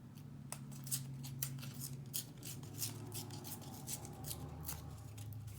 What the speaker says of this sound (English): I'm going to be lazy and use my scissors.